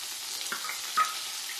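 Finely chopped tomatoes dropped into a hot pan of sautéed aloo matar base, giving a short hiss of sizzling with a small splash, close and alone.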